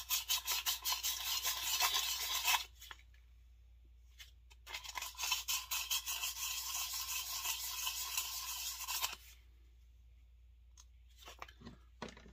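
Fine sandpaper rubs back and forth over the metal of a Husqvarna 266 chainsaw cylinder in quick scratchy strokes, two long bursts separated by quiet pauses, close and fairly soft.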